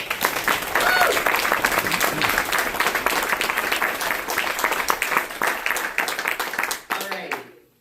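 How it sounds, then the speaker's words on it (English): Sustained audience applause fills a hall at a live storytelling show, dense and loud clapping from a crowd that holds steady for several seconds before tapering off abruptly near the end. "Another round of applause for Papa."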